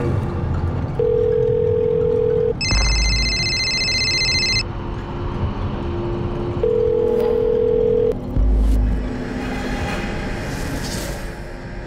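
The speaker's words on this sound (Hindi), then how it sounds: "मैं तेरे अब्बू को कब से फोन लगा रही हूँ, फोन नहीं उठा रहे।" Electronic phone ringback tone heard while a call goes unanswered, with repeated steady beeps and a bright two-tone chirp in between, at close range over low background hum, with no talking.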